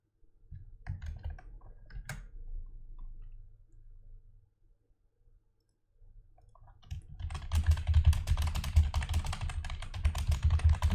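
Loud, hard-hitting computer keyboard typing during a strategy game session, scattered clicks at first, then a dense rapid burst of heavy keystrokes after a short pause.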